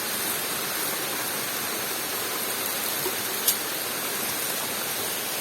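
Small waterfall running low on water, giving a steady, even rush of falling water that stays constant throughout with no voices.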